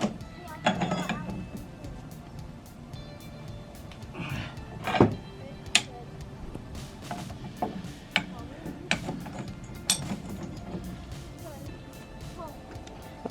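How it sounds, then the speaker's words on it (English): Mechanical ratcheting and clicking of a jack raising the corner of an old steel shipping container under restoration, with irregular clanks and creaks over several seconds, close by, amid background noise. "We're going to jack up the corner so it's actually going on there evenly"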